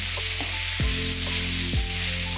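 Tomato goes into a sizzling beef curry base in a hot pan, giving a steady close frying hiss with a couple of sharp bursts of sizzle as the pieces land and are stirred.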